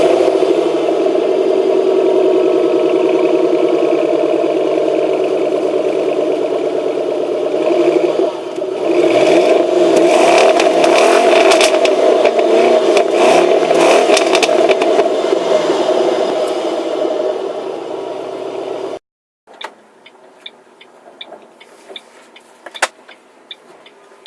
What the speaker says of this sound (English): I'm going to do some startup and engine rev noise right now